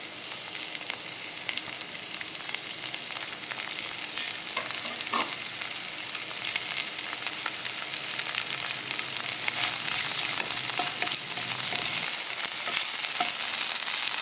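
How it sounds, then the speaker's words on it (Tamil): Mint and coriander leaves sautéing in a little hot oil for an Udupi hotel-style chutney, a steady, even close sizzle with occasional faint scrapes of stirring, continuous and unbroken. "இந்த புதினாவையும் கொத்தமல்லியும் நம்ம வதக்கிக்கலாம்"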